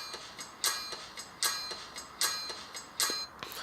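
A rhythmic electronic loop from a breath-controlled accessible instrument, made of bright, bell-like hits that repeat in a regular pattern of stronger and softer beats, fairly quiet and alone.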